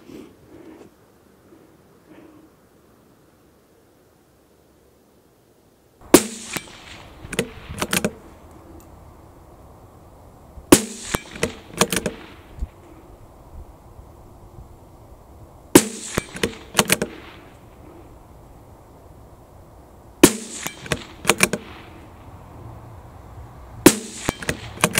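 A CZ 457 bolt-action rifle in 17 HMR fires six rounds as sharp, loud cracks at a measured pace. Between shots come the clacks of the bolt being cycled and a faint ringing tail after each report.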